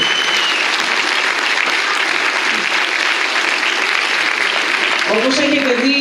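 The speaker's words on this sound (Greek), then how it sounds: "Άλλο ένα χειροκρότημα για τα παιδιά" Theatre audience applauding an amateur theatre group at a cultural association performance in Karpenisi, a steady dense wash of clapping throughout, with a voice briefly audible near the end.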